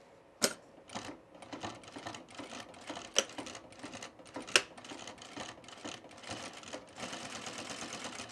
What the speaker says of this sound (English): We're just gonna turn it under and sew it really securely